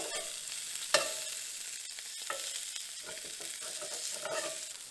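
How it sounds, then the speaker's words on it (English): Bratwurst sausages sizzle in a lightly oiled pan on an old Coleman camp stove outdoors, a steady crackling fry with a sharp clatter near the start and a few softer utensil knocks. "Letting the brats cook down a little bit. Added just a little oil to the pan."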